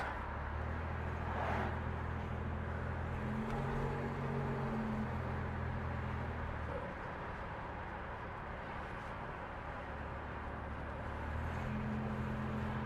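A 34-year-old Buick Grand National with original suspension rolls over train tracks, its engine droning steadily with a low rumble and a few faint bumps as the wheels cross the rails, heard from inside the car.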